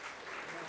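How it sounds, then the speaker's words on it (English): Brief applause from the audience at the Sydney Marathon media call, a short burst of clapping that lasts less than a second. "Round of applause, thank you."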